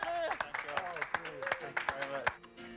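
Applause from the gallery at a shooting competition prize-giving, a quick run of claps heard beneath someone speaking continuously over it.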